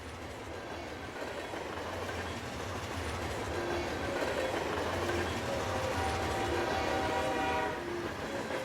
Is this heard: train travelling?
yes